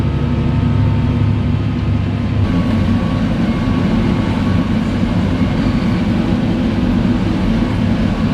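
A farm vehicle rolls along a narrow country road, a steady loud engine drone and road rumble running continuously close by, with no voices.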